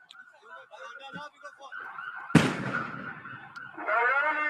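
Small fireworks explosions going off outdoors during a northeast blizzard, one sharp loud bang in the middle with crackling and whistling around it, mixed with a voice and wailing tones.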